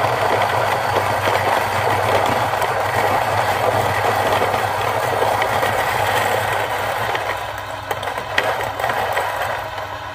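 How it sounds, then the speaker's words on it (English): A Niche coffee grinder works through 10 g of coffee beans, a steady, loud whirring grind that runs unbroken for the whole stretch with a low motor hum underneath, easing slightly near the end. "let's start with the grinding from the niche"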